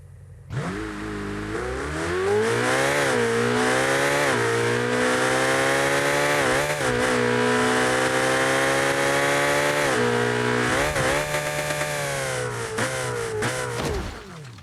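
A Ferrari engine revs hard and holds high, its pitch climbing, dipping and climbing again in long sustained pulls before dropping off at the end, loud and close.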